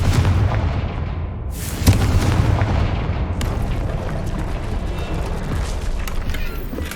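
A Confringo blasting spell in Hogwarts Legacy erupts into a dense, rumbling explosion with a sharp burst at its start, then settles into a continuous wash of crackling debris and room noise.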